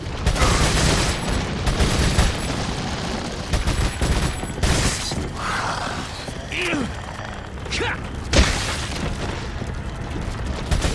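Rapid automatic gunfire from a machine gun in the Resident Evil 4 video game, dense loud bursts layered over other game sounds and booms, with someone talking over parts of it.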